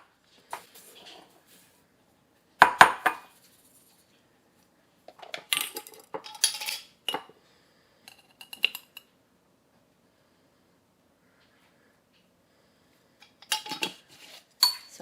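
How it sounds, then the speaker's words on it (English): A spoon clinks and scrapes against a bowl in short bursts, separated by pauses, while chopped apples are stirred with cinnamon sugar. The sound is close and fairly quiet. "So let's get this all mixed up so all our apples are evenly coated in our cinnamon sugar mixture."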